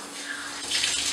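Running tap water filling a bath for an orangutan: a steady hiss of flowing water that swells louder toward the end, with no voices.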